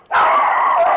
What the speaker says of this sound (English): Excuse my overzealous dog.